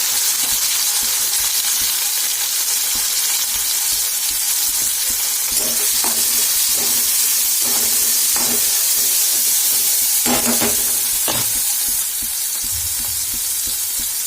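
Tomatoes fry in a hot pan with a loud, steady sizzle and hiss throughout, broken by a few brief stirring clatters near the middle.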